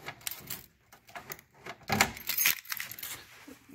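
Small keys on a car key ring jangle and clink in quick, irregular bursts close by, with brighter rattles around the middle of the clip and no talking.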